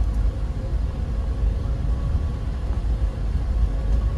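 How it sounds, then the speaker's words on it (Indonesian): Steady low engine drone and drivetrain hum inside the cabin of a 2018 Toyota Avanza 1.3 G manual with a 1300cc dual VVT-i engine, rear-wheel drive; continuous, even road rumble with no talk. "Namun suara mesin dan suara gardennya benar-benar masuk ke dalam kabin"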